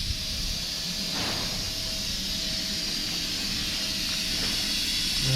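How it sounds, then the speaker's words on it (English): Compressed air drains off a large factory compressor in a steady, loud, broad hiss that runs continuously, with faint mechanical tones and a couple of soft knocks underneath. "That's draining the extra air off."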